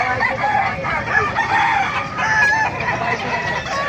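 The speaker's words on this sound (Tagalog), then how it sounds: "Gandang manok to." Roosters crow loudly and chickens cluck nearby at the Bocaue flea market, several birds calling over each other in a dense, continuous din.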